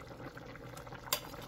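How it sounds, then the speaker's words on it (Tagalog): Broth for a simple shrimp snack boils in a pot at home with a steady, faint bubbling, broken by one brief sharp clink partway through. "Okay, ayan mga kasenyor, at kumukulo na yung kanyang sinabawan."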